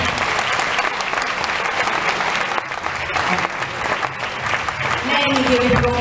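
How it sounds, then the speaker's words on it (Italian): An audience applauds after a Christmas concert with sustained, dense clapping that fills the room. A voice talks briefly near the end. "Ditemelo con un applauso."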